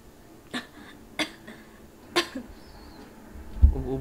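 Three or four separate short coughs, spaced about a second apart, sound close by but fairly soft in a quiet room, followed by a faint thump near the end.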